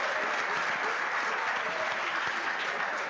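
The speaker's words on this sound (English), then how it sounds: "Let's give him a round of applause." A round of applause from the audience at a Cleveland Browns Black History Month program honoring a Pro Football Hall of Fame player, steady, thick clapping from many hands at an even, moderate level throughout.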